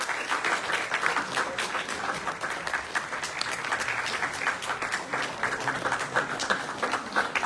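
Sustained applause from a stage play audience, dense overlapping clapping continuing steadily without pause.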